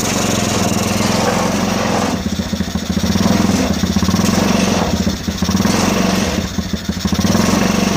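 A gasoline engine running on diesel fuel drones loudly and steadily up close, its rough, buzzing note dipping and rising a few times as the revs change, with no voices over it.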